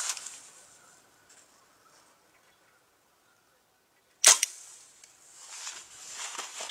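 A compound bow fires an arrow outdoors in light wind at a small can target, one sharp snapping release standing out against near silence, followed by a soft breezy rustle.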